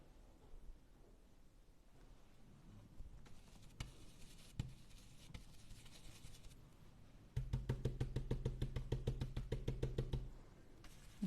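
A stencil brush pounces repeatedly on a stencil laid over black paper, giving soft, quiet dabbing taps at first. The taps then become a faster, denser run of rhythmic thumps before easing off.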